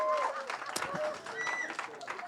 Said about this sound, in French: je pense que les applaudissements pourraient être plus nourris